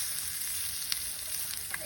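Eggs frying in a pan on medium-high heat, a steady faint sizzle and crackle with a few sharper pops, heard alone without talk.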